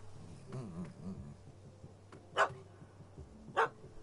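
A dog in The Witcher 3, chasing a cat up a tree, gives two sharp, loud barks about a second apart over a low ambient hum and faint insect-like buzzing.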